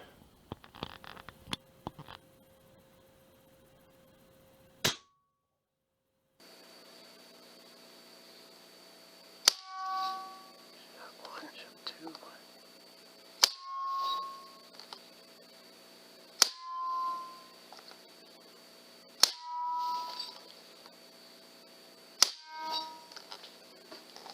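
A Badger .40 caliber air rifle fires repeatedly, sharp cracks spaced several seconds apart, each followed by a short metallic ring and a faint hiss under a steady background hum.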